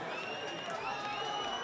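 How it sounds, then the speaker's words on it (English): Pinkerton Academy fans at a high school baseball semifinal against Nashua North yell and scream in a steady, dense roar, loud and continuous throughout, with no clear pauses. "the Pinkerton crowd is screaming for a hit batsman there"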